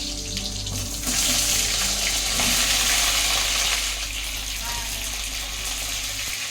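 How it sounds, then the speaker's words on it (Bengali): Pointed gourd pieces fry in hot oil with black cumin in a wok, making a steady, loud sizzling hiss that rises slightly midway, with a voice talking faintly in the background. "এবার কড়াইতে দিয়ে দিলাম তেল তেলের মধ্যে দিয়ে দিয়েছি কালো জিরে ফোড়ন তারপর সমস্ত পটলগুলোকে একদম লাল লাল করে"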